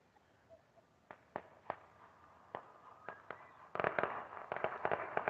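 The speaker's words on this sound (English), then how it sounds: "That's some kid with a bunch of firecrackers." Sharp firecracker pops from a kid's bunch of firecrackers go off one at a time at first, then burst into a rapid crackling cluster, heard from some distance on the Fourth of July in Silverton, Colorado, with no talking.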